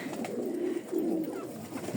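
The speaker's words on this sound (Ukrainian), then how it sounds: "Зараз будемо кормити голубів." Pigeons cooing in a steady low murmur as they wait to be fed outdoors on a windy, overcast December day, the soft coos close by and continuous with no voices.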